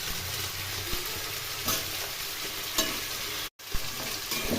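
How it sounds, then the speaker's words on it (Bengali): Mixed vegetables with salt, turmeric and coriander powder stir-fry in a pan with a constant close sizzle and a few scraping stirs. There is a brief gap of silence partway through. "এখন খুব ভালো করে কষিয়ে নেব।"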